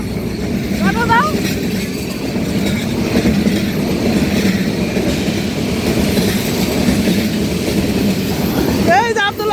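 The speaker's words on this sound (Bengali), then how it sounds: "ওই যে আমাদের ট্রেনটা আসতেছে এখন।" Train passing by close at hand, a loud continuous rumble with clickety-clack wheel rhythm and brief squeals, while a voice talks over it and a horn-like whine rises near the end.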